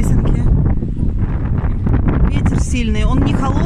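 Strong, not cold wind on the Croatian coast at Kamenjak buffets the microphone with a constant low roar, while a voice talks underneath the gusts.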